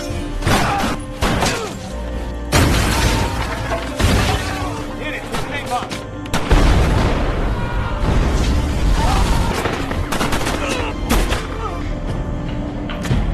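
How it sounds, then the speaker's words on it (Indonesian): Bomb blasts and gunfire from a war film scene, with booming thuds, crashes and shots through a busy, loud mix while a voice narrates over it. "menyuruh Nick meledakkan bom yang sudah ia pasang sebelumnya."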